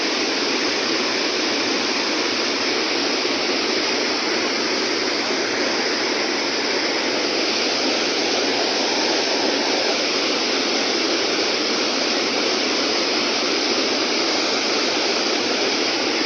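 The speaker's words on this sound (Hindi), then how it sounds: "पानी बहुत तेज़ बह रहा है।" Fast-flowing water rushes steadily in the rain on a cold day, a loud, dense and unbroken roar close by, with no voices and no clear pauses.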